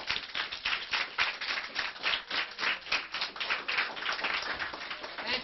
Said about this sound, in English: Let's give Mr. Aronson and Ms. Budos another round of applause.